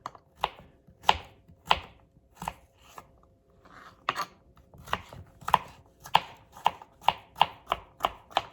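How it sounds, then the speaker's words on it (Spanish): A knife chops yellow squash tips finely on a cutting board, crisp taps in quick uneven bursts, close and clear with no other sound. "Así las vamos a hacer también picaditas."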